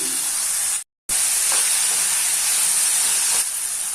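Onion and tomato frying in a pan for fenugreek pulusu, a loud, dense, hissing sizzle that cuts out for a moment near the start and then resumes steadily with faint stirring scrapes, no voices.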